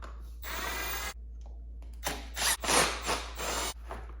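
Phillips screws being removed from the headlight cover of a Suzuki DRZ400SM motorcycle, heard as close bursts of a whirring, grinding driver separated by short pauses over a low steady hum.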